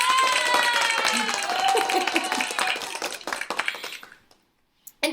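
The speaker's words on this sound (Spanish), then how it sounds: "Unos aplausos para todos." Applause from an audience in a Spanish-language class on Sanskrit pronunciation. The clapping is loud and dense, running under a teacher's voice, then thins and breaks off, leaving silence and a few last claps.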